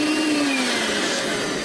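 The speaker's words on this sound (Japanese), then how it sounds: "ポータブルな コードレス掃除機としては吸引力が非常に強い" Makita cordless handheld vacuum cleaner running steadily with a broad, even motor whine and airflow hiss, close and loud, its pitch sliding down slightly early on.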